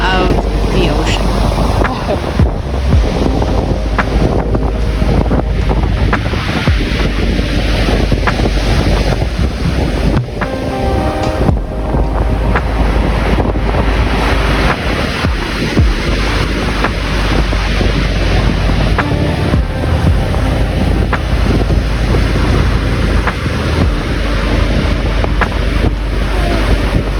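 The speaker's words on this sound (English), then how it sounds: "This is the sound of the ocean waves. This isn't sounds put in as music, but actual the sounds and wind of the ocean." Ocean waves and strong wind on a rainy coast, a dense continuous roar with heavy wind buffeting on the microphone, loud and steady for the whole stretch with no clear talk.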